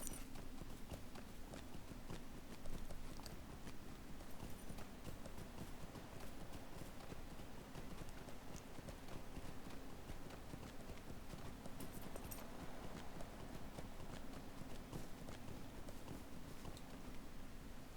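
Horse hooves clip-clop steadily and continuously while a horse is ridden in a video game, close and fairly even in rhythm, with a faint background bed behind the hoofbeats and no talk.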